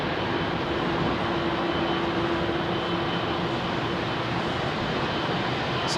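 Boeing 747-8 freighter at London Heathrow, giving a continuous broadband jet rumble with a faint steady drone tone, fairly close and even in level, with no talk.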